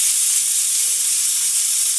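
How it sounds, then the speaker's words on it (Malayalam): A pressure cooker cooking beef kabsa lets out a steady, loud steam hiss, a bright continuous rush held at even strength for the whole stretch with no talking. "1 വിസിൽ വന്നു, അടുത്ത വിസിൽ കൂടെ വരട്ടെ"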